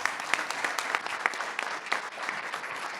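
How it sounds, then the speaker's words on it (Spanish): Audience at a science recognition ceremony applauds steadily, a dense patter of clapping held at moderate distance throughout. "Un aplauso para..."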